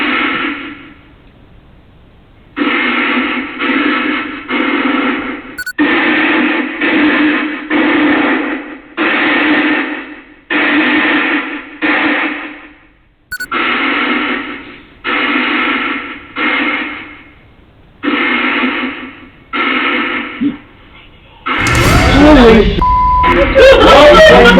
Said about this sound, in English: We arm a portal device in the corridor, which will continuously pump white noise into the atmosphere